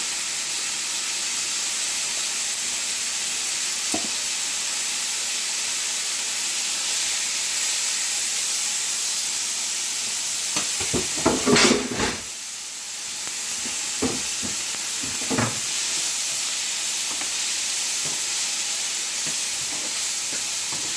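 Onions frying in an Indian pan with a pinch of turmeric added, giving a steady broadband sizzle with a few louder crackling bursts and clatters midway, and no talk over it.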